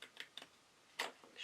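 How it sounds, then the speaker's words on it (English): Decollage scissors cut paper in a few crisp, quiet snips spaced irregularly, with a slightly louder cluster near the end and no talking. "I'm going to take my decollage scissors here"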